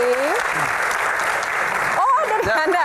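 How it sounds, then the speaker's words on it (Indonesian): Steady clapping from an audience at an Indonesian televised Q&A panel event fills the opening seconds and fades out as voices start up near the end. "tepuk tangan dong buat Mbak Afiliani"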